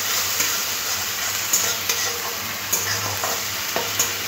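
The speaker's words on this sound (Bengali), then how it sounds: "টমেটো আর পেঁয়াজটা ভালো করে কষে নিতে হবে, যাতে টমেটোর কাঁচা গন্ধ না থাকে।" Tomato and onion paste being stir-fried in a pan, a close, continuous sizzling hiss broken by periodic scraping stirs and soft clacks, with no talking.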